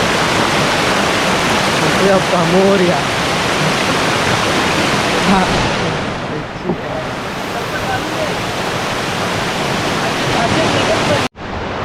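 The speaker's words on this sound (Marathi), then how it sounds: "धबधब्यावर नॅचरल वॉटर वॉटरफॉल नॅचरल" Natural waterfall in a Konkan village, a loud, steady roar of falling water filling the whole clip, with a voice calling out briefly partway through.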